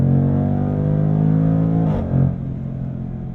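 A 2021 Jaguar F-Pace SVR's supercharged 5-liter V8 drones loudly and steadily, then dips in pitch before a brief swelling rev near the end.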